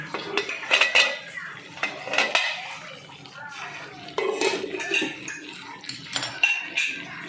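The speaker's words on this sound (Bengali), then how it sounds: "এবার আমি ঢাকনাটা খুলে নিচ্ছি" A pot lid lifts off with clattering metal cookware and cutlery knocks while cooking bhetki fish paturi, several sharp clanks close by alongside some watery sounds.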